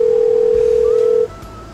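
Telephone tone on speakerphone: one steady, loud tone holds for just over a second, then cuts off, leaving a quiet line.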